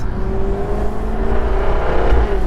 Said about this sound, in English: The sound of that exhaust, I don't know if the microphone is capturing it, but it's ferocious.